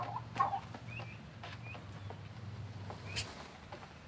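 Turkeys on a small rural farm in northeast Thailand, a few short gobbles and clucking calls near and far over a low engine-like hum, with faint background noise and no talk.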